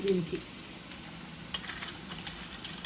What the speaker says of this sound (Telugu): అండ్ ఇప్పుడు ఈ బేబీ పొటాటోస్ మనకి ఇలా ఇక్కడ ఫ్రై అవుతూ ఉంటాయి.